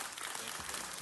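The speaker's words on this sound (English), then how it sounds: "give him a round of applause and thank him for his years of service" Steady applause from a crowd at a city council meeting, a dense wash of many hands clapping heard at a moderate distance.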